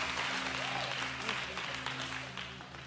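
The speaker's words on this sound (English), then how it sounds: "Can we just clap for that testimony?" A crowd applauds loudly and steadily throughout, with scattered voices and cheers mixed into the clapping.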